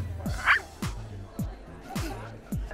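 A voice imitates a small dog barking, giving five short yappy barks at a steady rhythm, close and clear with no other sound.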